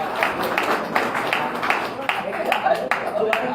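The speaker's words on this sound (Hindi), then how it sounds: "एक बार जोरदार तालियां और तालियों से इनका स्वागत करिए" An audience gives loud welcoming applause for a guest at a stage event, with many hands clapping in a quick, uneven patter that swells and dips, and a voice talks over it at times.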